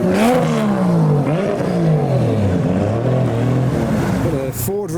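A 2JZ-swapped Nissan S13 revs loudly nearby, its pitch swooping up and down in throaty bursts, with a steady exhaust drone underneath, at a car meet.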